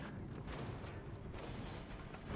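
Warship guns boom continuously in the naval battle game World of Warships Legends, with a cruiser holding its side. The dense, rumbling barrage is fairly faint and steady throughout, with no clear gaps between shots.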